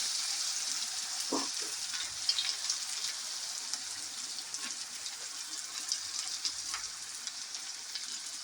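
Diced capsicum, tomato, onion, carrot, ginger and chilli with cumin, turmeric and half-boiled potatoes sizzle steadily in hot oil for a Maggi tempering, a continuous bright crackle with a few faint clinks of stirring.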